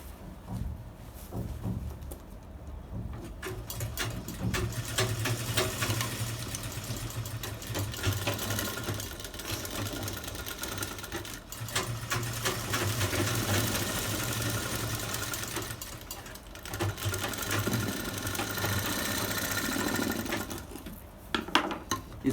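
A sewing machine runs in long fast bursts while stitching a bridal sarara, its rapid motor hum and needle clatter loud and close, with short pauses between seams.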